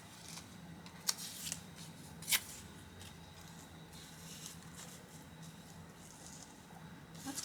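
Two or three quick, crisp snips of scissors through paper over a faint steady background hum, then quiet.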